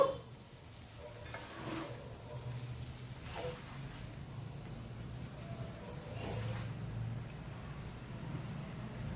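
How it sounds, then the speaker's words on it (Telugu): Millet noodles being mixed with sauce in a pan, soft scraping stirs and occasional light utensil knocks repeating quietly at a moderate distance, with a low hum underneath. "మంచిగా కలుపుకోవాలి మంచిగా అంత సాస్ అంతా మనం చేసుకున్నాం కదా ఆ సాస్ అంతా మంచిగా పట్టేటట్టు చేసుకోవాలి"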